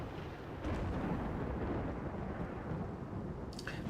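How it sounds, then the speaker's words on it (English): Steady roar of rain and rolling thunder from a RimWorld storm, continuous and fairly loud throughout with a brief crackle near the end, no voices. "Oh, we're finally almost through the storm season."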